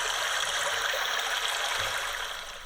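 Steady rushing water from a high-tech Japanese toilet, a loud continuous stream-like hiss that runs unbroken throughout, close and alone with no voices.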